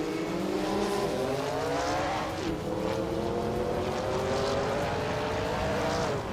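A Ferrari 288 GTO race car in a racing video game holds a steady, loud engine drone with rising and falling harmonic pitch as it shifts through gears, continuous throughout with no talk over it.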